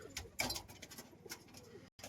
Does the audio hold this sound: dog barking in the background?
no